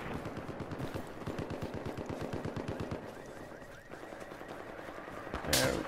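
Rapid bursts of automatic gunfire in the video game Battlefield 4, a steady run of close, sharp shots ending in a louder blast, with voices talking over the shooting.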